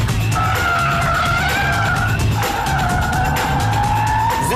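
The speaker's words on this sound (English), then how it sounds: "it's got a great engine, it makes a great noise" Mazda RX8 driven hard with its rotary engine revving and tires squealing, a loud, close, continuous roar with rising and falling whine across two pulls.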